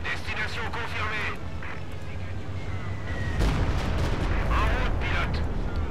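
Artillery fire in the video game Company of Heroes 2: a heavy, loud boom lands midway and rumbles on under dense battle noise, while voices speak unit lines over it.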